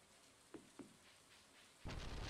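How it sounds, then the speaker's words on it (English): Steady rain falls in the farming video game Stardew Valley, a soft continuous hiss with two faint drips early on before the downpour suddenly swells much louder near the end. "And since it's raining, I'm going to go fish in the river."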